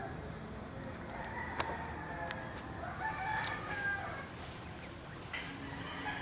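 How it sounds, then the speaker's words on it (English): Roosters and chickens next door crow and cluck in the distance over a steady outdoor background near free-roaming rabbits on grass, with a few sharp clicks and brief cackles scattered throughout. "You can hear the chickens."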